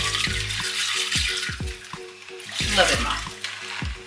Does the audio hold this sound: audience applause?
no